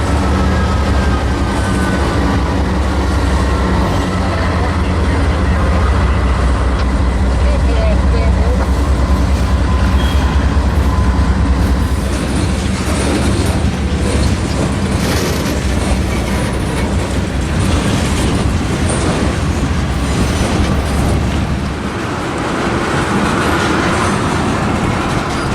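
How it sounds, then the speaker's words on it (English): A Union Pacific freight train with a locomotive rumbles past nearby with steady clickety-clack of rail cars, loud and continuous throughout, with occasional talk in the background. "This was going to be a nice train to catch once they finish up"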